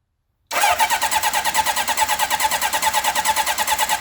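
A 40-year-old motorcycle engine catches after a brief silence and settles into a loud, fast, rhythmic chugging idle, close and steady with no voices.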